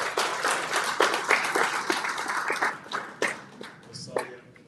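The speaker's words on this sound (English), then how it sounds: "Let's have another round of applause for Prime Cabinet Secretary." An audience at a university partnership forum claps for a cabinet secretary, a moderate burst of scattered individual claps that thins out and fades, with talking mixed in.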